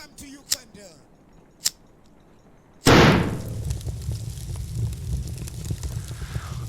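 Firecrackers go off in the video game Love, Sam: two faint sharp ticks come first, then a sudden loud blast opens into a sustained, crackling, popping roar.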